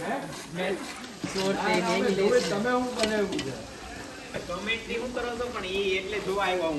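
A dish with salt being stirred in a hot pan, sizzling steadily under ongoing talk.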